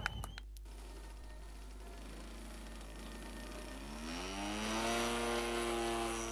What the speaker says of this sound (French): Au décollage, l'Extra 300 Lagman de Bernard Taillant